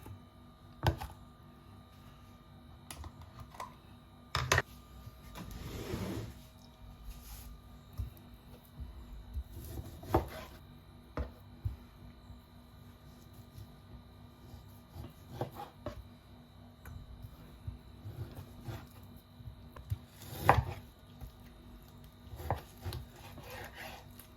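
A knife cuts through about a kilogram of meat on a board, giving sparse rubbing slices and soft thuds at irregular intervals over a quiet background hum.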